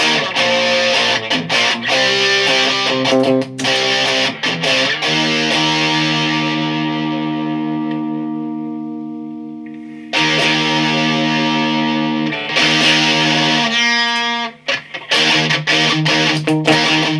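An electric guitar runs through a Rat-style distortion pedal with the gain turned down, playing chords and sustained notes that ring out and fade, then restart with brighter strums, loud and close with no voices.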